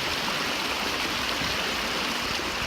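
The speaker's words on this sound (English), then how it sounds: "All the snow's melting and water's flowing underneath it." Snowmelt stream rushing beneath snow and rocks at the base of Forester Pass on the John Muir Trail, a steady, close, broadband roar of flowing water with no pauses and no voices.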